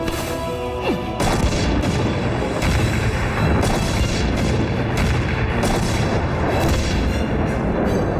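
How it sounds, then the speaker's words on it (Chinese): Grenade blasts in a war drama set in an underground treasure cave, heard as repeated heavy booms with crashing debris, loud and close, several bursts rolling one after another across the whole stretch. "手榴弹，"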